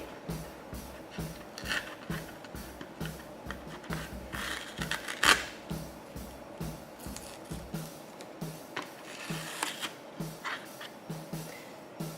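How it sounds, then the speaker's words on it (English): Scissors cut thread or tape while a beaded band is finished on a loom, heard as a quiet close series of rhythmic snips and rubbing scrapes with one sharper click partway through. "Cut that, and you can then remove the tape."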